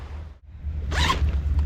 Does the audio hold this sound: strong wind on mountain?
no